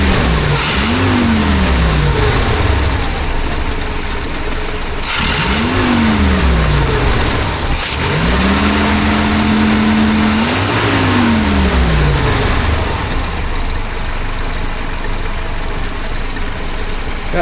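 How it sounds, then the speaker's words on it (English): A carbureted 1976 BMW 2002 engine idles after tuning, interrupted by four sharp throttle blips that rev up and fall back, then returns to a steady, even idle. "Smooth idle."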